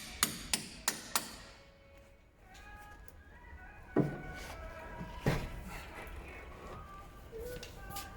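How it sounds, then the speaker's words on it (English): Four quick metallic hammer taps on a chisel, separating a ball joint on a Ford Fiesta Mk1 front suspension, ring out in a row, then after a pause two more sharp strikes, each with a bright ringing decay. "Just a few taps with the hammer, put the chisel in"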